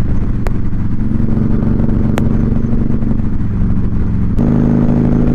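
A Harley-Davidson motorcycle with a Stage 2 107 engine drones loud and steady at cruising speed, its deep exhaust note shifting slightly in pitch, with a few sharp clicks and a low rumble of wind throughout.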